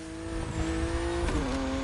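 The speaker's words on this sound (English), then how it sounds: "Kai got you your next killer partner, a 1970 Dodge Challenger." Engine of a 1970 Dodge Challenger in the racing game The Crew Motorfest, a steady droning muscle-car rumble that rises slightly in pitch and dips near the end, heard alone.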